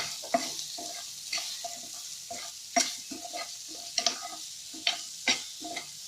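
A spoon stirs amla pickle seasoned with turmeric in a pan, giving repeated scraping and clinking strokes in an irregular rhythm over a faint sizzle, close up and moderately quiet with no talk.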